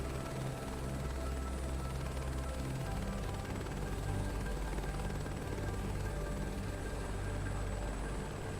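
A helicopter lifts off in the game Microsoft Flight Simulator 2024, its rotor and turbine drone holding steady and continuous at moderate volume, with a slight shift in the low thrum as power builds.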